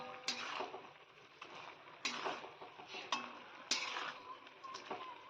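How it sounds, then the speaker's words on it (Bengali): Spicy dry fish curry being stirred in a pan, a spoon scraping and clinking against the metal in a few distinct strokes, quiet and close. "এখন একটু নেড়ে চেড়ে দেবো"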